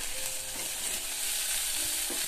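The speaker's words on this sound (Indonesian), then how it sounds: "Ditumis-tumis" Spice paste with anchovies and chilies sizzles as it is stir-fried in a pan in a small home kitchen, giving a steady, dense frying hiss with a few soft scraping stirs and no talk.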